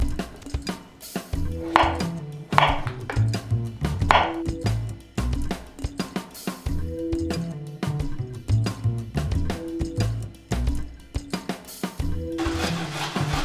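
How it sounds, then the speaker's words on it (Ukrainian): A knife chops potatoes rapidly on a cutting board in quick rhythmic taps, with steady background music running throughout. "і за цей час поріжте картоплю."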